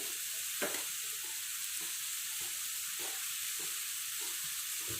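Ridge gourd and potato curry with fish being stirred in a pan, a soft steady sizzle with regular light scraping strokes of a spatula, close and quiet with no talk.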